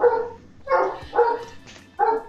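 A dog barks four times in short, evenly spaced, moderately loud yaps with brief silences between them and no talk.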